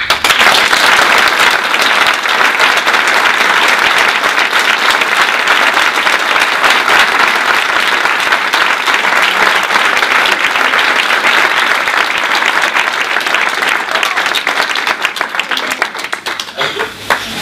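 Loud, sustained applause from a conference audience in Uruguay, many hands clapping in a thick, even roar for over fifteen seconds before tapering slightly at the end.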